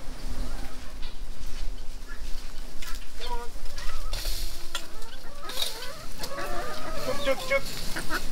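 Backyard chickens cluck and chatter continuously at close range while being fed scraps in a tropical vegetable garden, with occasional louder squawks over a busy outdoor background.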